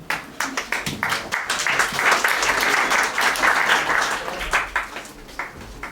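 Conference audience applauds a speaker, a full burst of clapping with sharp individual claps at the start building into dense, steady applause before tapering into scattered claps.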